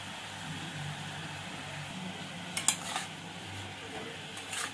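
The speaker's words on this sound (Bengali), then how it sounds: "একটু মিশিয়ে নেব" Cabbage, tomato and salt being stirred together in a pan, with a few sharp clinks of a utensil against the metal over a steady low background hum, close and fairly quiet.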